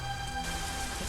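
Steady heavy rain pours down outdoors, a dense even hiss that stays constant and close throughout, with no voices over it.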